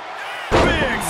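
A wrestler's splash slamming onto the mat in the WWE 2K24 video game lands as one sudden heavy impact, loud and close, followed by a roaring crowd-like wash that fades over about half a second.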